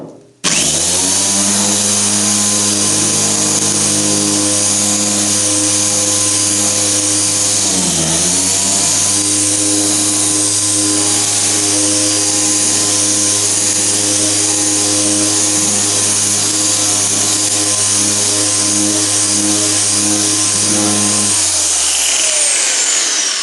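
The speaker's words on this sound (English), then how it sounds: "Final little go over with the orbital sander." An orbital sander runs over an MGA's thin aluminium door skin with a loud, continuous, close buzzing whine and steady humming tones, dipping briefly once midway, then spinning down at the end.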